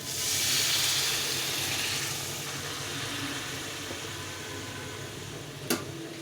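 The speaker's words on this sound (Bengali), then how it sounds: "এখন আমি এর মধ্যে জল দিয়ে দেবো, জলটা ফুটিয়ে রেখেছিলাম দিয়ে দেবো" Boiled water poured into a pan of fried spice paste for an olkopi dalna curry, a loud rushing hiss and bubbling sizzle at first that settles into a quieter simmer, with a sharp clink near the end.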